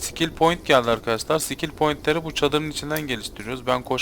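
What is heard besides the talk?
No everyday noises stand out.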